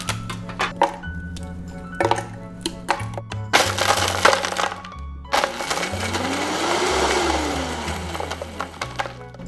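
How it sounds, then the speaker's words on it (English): An electric blender grinds broken-up praline in short pulses, with crunching and rattling between bursts and clinks of a container, close and moderately loud with no talking. "Electric blender. Break up the praline and grind it up 4 or 5 tablespoons at a time."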